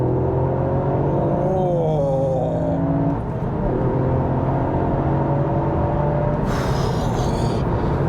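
From inside the cabin, a Toyota GR Yaris accelerates hard with a steady, loud engine drone that climbs in pitch through the gears, shifting near the middle and then pulling strongly again.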